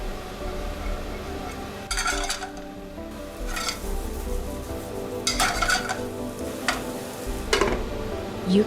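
Sujuk sizzling as it goes into a hot pan for kumpir, a steady frying hiss broken by several sharp utensil clinks and pan knocks throughout.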